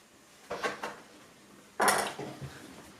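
Knife chopping fresh herbs on a cutting board in a home kitchen: two short clusters of quick chops, close and fairly quiet, with a pause between and no talk.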